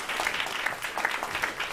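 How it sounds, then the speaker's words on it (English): Audience applause at a panel event on climate resilience through agriculture, steady clapping throughout at moderate level, with no talk. "Round of applause, everyone."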